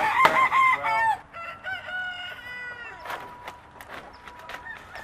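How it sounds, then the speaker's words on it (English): Chickens cluck close by while a rooster crows loudly at the start, the crowing followed by a steady run of softer clucks and squawks from the flock kept outdoors on grass. "Let's winterize some chickens."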